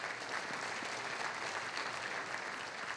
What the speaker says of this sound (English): Bill Rowe, folks, give him a big round of applause